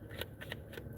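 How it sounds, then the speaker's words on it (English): A deck of playing cards is shuffled close up, giving quick rhythmic riffling bursts in a short run with no talking. "I'm going to shuffle some cards."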